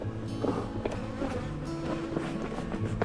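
Honey bees buzz steadily around an opened hive of a newly installed swarm on a farm, a dense droning hum with faint shifting tones, continuous and close throughout.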